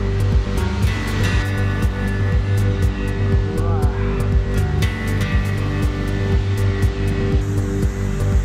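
Sanjo-no-taki waterfall on the Hiuraba trail at Oze, Japan, roaring as a steady, loud broadband wash that holds throughout, with a faint voice briefly audible over it.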